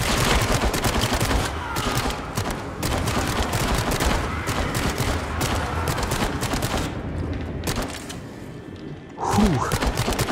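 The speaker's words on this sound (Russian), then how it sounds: "Во все стреляю!" Rapid bursts of gunfire crackle almost continuously in the VR video game The Dark Pictures: Switchback VR, sharp repeated shots layered over one another with dull thuds, loud and busy throughout.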